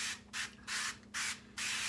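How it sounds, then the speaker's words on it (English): Four or five short hissing bursts of cooking spray coating the inside of a crock pot, close up, with brief gaps between them over a low steady hum. "my cooking spray"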